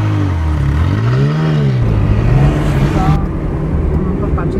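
A Ferrari convertible engine drones and swells as it drives through city traffic in Kraków, heard from a nearby car with a steady road rumble underneath.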